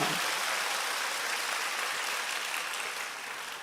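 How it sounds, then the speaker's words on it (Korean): A church congregation claps steadily for several seconds, a dense even wash of applause that slowly tapers toward the end. "다시 한번 하나님께 큰 영광의 박수 올려드립니다"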